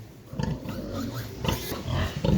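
Newborn piglets on a farm are being weighed, letting out close, intermittent grunts and squeals in short bursts over a low background rumble.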